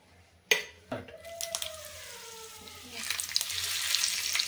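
Oil crackles and sizzles in a hot tawa before frying bangda (mackerel), building from sparse pops to a steady, bright hiss, with a few clinks of utensils early on.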